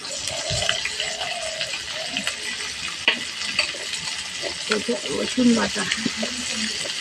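Ground onion paste and spices fry in a pan with a steady sizzle and scraping stir sounds, someone speaking lightly over the cooking.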